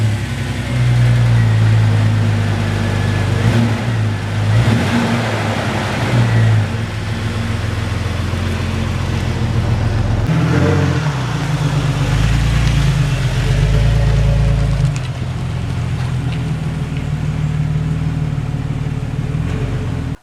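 A Jeep engine roars at high revs, steady and loud throughout with repeated surges and dips as the throttle is blipped hard, no voices over it.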